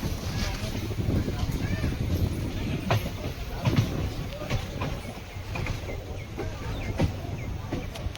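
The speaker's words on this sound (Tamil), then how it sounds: "train number 16850 Rameswaram to Tiruchirappalli unreserved express" Train number 16850, the Rameswaram to Tiruchirappalli unreserved express, runs with a continuous low rumble and periodic wheel clacks, heard from on board with a voice talking over it.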